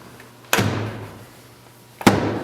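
Two heavy lid thumps from a Viper AS710R floor scrubber, about one and a half seconds apart, each a sharp loud knock followed by a short rattling decay, over a low steady hum.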